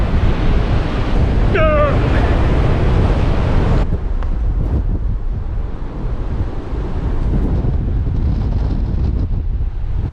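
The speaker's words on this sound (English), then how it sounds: "I've never been in wind on a beach like that before." Strong wind buffets the microphone with a constant roar while surf crashes steadily in the background, loud and continuous throughout.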